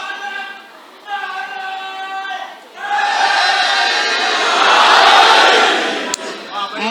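At a Shaban religious gathering in an Islamabad imambargah, a large crowd chants a slogan in loud unison, rising in waves after a single leading voice calls out, then swelling into a sustained roar.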